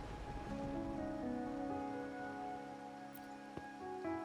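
Steady rain falls in the video game Rune Factory, a soft constant patter under sustained musical tones, with a brief sharp click partway through and no speech.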